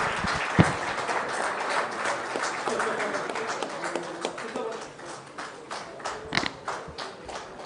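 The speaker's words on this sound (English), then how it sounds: "please join me in thanking our two leaders with your warm applause" Warm applause from a summit audience thanking two leaders at the close of a session, a steady wash of clapping that thins toward the end, with a voice speaking over it.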